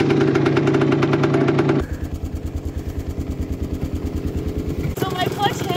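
A vintage motorcycle's engine on an off-road forest trail, first a steady buzzing run, then a rapid, rhythmic idling chug close by, ending in a brief burst with faint voices.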